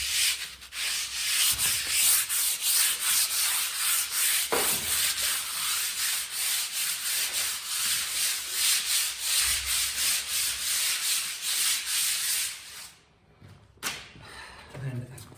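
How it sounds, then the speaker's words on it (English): Light sanding over a plastered wall, a steady rhythmic scratching rub that runs close and continuous for about thirteen seconds before stopping, followed by a few faint knocks. "we're going to give this wall a very light sand over"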